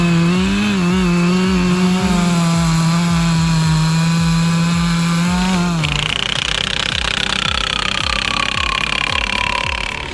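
A Stihl MS-462 chainsaw cuts through logs, its engine droning steadily and loudly before the pitch shifts as the chain bites into the wood with rhythmic cutting pulses, close by.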